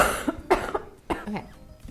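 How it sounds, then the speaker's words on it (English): Several short, harsh coughs in quick succession, close to the microphone, with brief pauses between bursts. "sorry if I'm like coughing throughout this video because I am sick"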